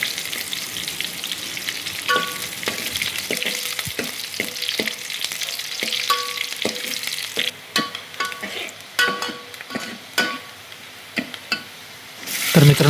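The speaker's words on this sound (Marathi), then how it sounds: "तो जरा हलका परतून घ्यायचा आपण थोडासा गोल्डन ब्राऊन होईपर्यंत." Onion sautéing in oil in a pan until golden brown, a close, continuous frying crackle broken by repeated clinks and scrapes of a spoon stirring against the metal, with no voices.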